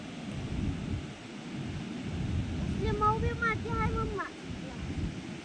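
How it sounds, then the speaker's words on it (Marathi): Low, rumbling roar of sea waves at Malgund beach under strong wind buffeting the microphone, with a brief high voice calling out over the noise. "समुद्राचा कसला आवाज यायला लागलाय बघ पाण्याच्या लाटा"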